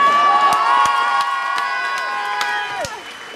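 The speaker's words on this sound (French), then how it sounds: "je vous demande d'applaudir" A concert crowd at L'Observatoire in Cergy, France, at a show, cheers with sustained whoops and shouted voices, while scattered claps pop through and the noise gradually fades.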